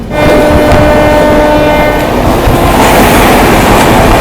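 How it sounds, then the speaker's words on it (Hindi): Gatimaan Express, India's fastest train, rushing past at a crossing near Dholpur Junction, a loud continuous roar of wheels and carriages that fills the whole stretch, with a faint tonal whine running through it. "अब इंडिया की फास्टेस्ट ट्रेन गतिमान एक्सप्रेस के साथ में अपनी क्रॉसिंग होने वाली है।"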